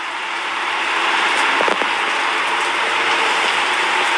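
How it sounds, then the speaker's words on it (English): Rain falls steadily outdoors as a dense, even hiss of drops on the ground and nearby surfaces, with a couple of faint knocks in the middle and no voices. "it's raining"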